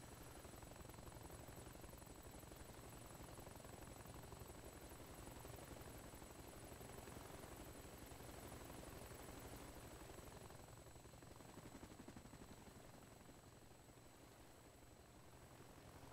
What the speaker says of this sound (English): That's a helicopter taking off.